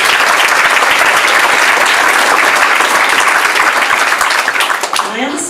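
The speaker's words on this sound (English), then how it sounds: "So, huge round of applause." Loud, sustained audience applause fills a public event about restoring nature on Dartmoor, steady dense clapping that tapers slightly at the very end.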